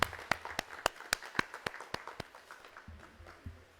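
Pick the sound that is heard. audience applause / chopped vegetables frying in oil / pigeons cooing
audience applause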